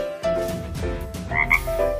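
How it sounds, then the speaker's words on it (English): A cartoon frog croaks repeatedly in a steady, throaty rhythm, loud and close, with no voices present. "Frog."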